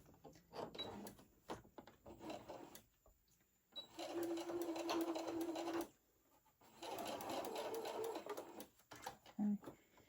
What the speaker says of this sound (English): here I am, just going to sew it up